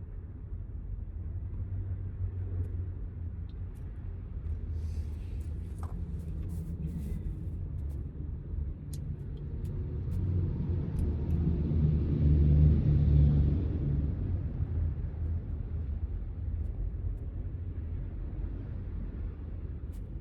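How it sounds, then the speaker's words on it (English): Road traffic rumbling past outdoors, a low continuous drone that swells as a vehicle draws near and passes around the middle, then eases back to a steady background roar; nobody speaks. "There's traffic here, which I'm surprised by."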